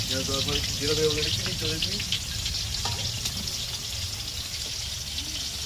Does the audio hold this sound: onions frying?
yes